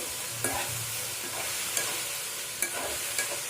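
Carrot pieces frying in a pan for carrot chutney, a steady soft sizzle with several sharp scrapes and clacks of a spoon stirring against the pan, no talking.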